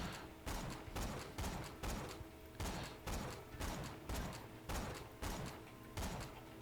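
Hawkeye sniper rifle from Borderlands 2 firing a steady run of about ten sharp, punchy shots, each followed by a short decaying tail, loud and evenly spaced with no talking.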